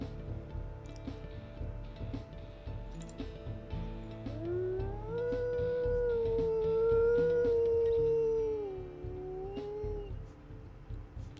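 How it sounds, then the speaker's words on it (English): A single drawn-out wolf howl from the WolfQuest video game rises and holds as a clear, mournful tone for several seconds before tapering off, set over low rumbling ambience and scattered soft clicks. "Let's listen to your howls, buddy."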